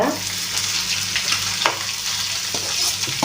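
Onions frying in a non-stick pan, a steady close sizzle with occasional stirring scrapes throughout.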